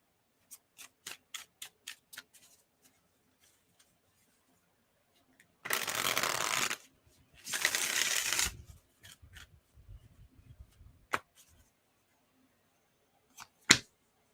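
Tarot cards are handled and shuffled: a run of sharp card taps and snaps, then two dense riffling bursts about a second each, then scattered clicks and a final sharp slap, close and fairly quiet, with no talking.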